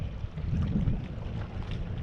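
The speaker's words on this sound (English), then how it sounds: "It's really windy." Strong wind buffets the microphone on a boat at Lake Lanier during spring bass fishing, a steady low rumbling roar with gusty swells and no voices.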